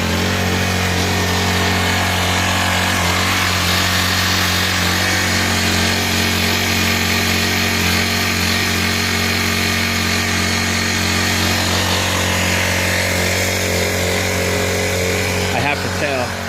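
A Honda EU1000i generator running rough, its engine droning loud and close with a buzzy, uneven tone that holds steady for the whole stretch, with a brief rattle near the end.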